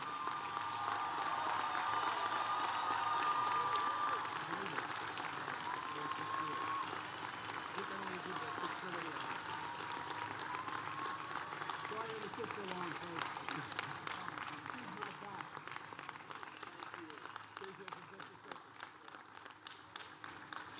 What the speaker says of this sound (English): Let's give the President one more round of applause.